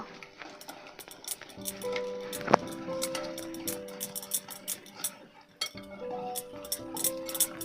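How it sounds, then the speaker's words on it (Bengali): A spoon stirs yogurt batter in a pan with mustard seeds and curry leaves, giving light scraping and clinking strokes over a soft background hum. "এবার দইয়ের যে ব্যাটারটা তৈরি করেছে ওর মধ্যে দিয়ে দেবো এবার ভালো করে মিশিয়ে নেব"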